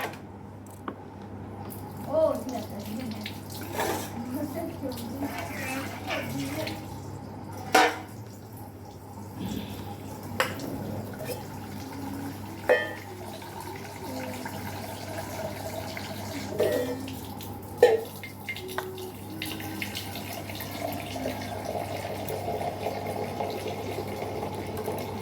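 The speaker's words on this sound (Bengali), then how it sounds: "চুনো মাছগুলো খুব ভালো করে ধুয়ে নিয়েছি" Small chuno fish rinsed under running tap water in a kitchen, a steady close trickle with scattered splashes and drips over about 25 seconds.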